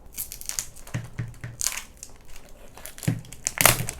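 A cured resin piece from a Polaroid photo stand project is torn and peeled apart by hand, giving a series of sharp crackling, crinkling snaps in irregular bursts, close and fairly loud, with no talking.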